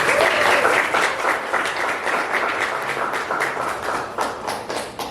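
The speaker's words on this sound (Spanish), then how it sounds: "Quiero arrancar pidiendo un aplauso para Naturalia" Audience applauding for Naturalia at a live storytelling show, a thick continuous roar of many hands clapping, loud and sustained throughout without speech.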